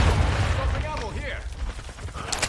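Rapid gunfire bursts crackle from a Call of Duty match, loud and dense, with a voice talking over the shooting.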